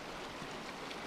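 Flowing creek water beside low-lying land, a steady broadband rush that stays even throughout, moderately faint with no voices.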